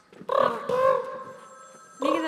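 A mimicry artist voices a telephone ringing, with harmonic ring bursts near the start, a longer sustained tone through the middle and another burst at the end, loud and close with no other talk.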